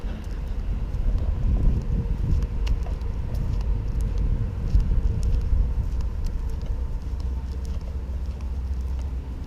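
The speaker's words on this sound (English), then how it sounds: "The wind's blowing" Steady wind gusting across an RV campground set back in private wooded sites, a continuous low rumbling roar of buffeting air on the microphone with no talk.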